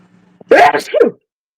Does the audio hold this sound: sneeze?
yes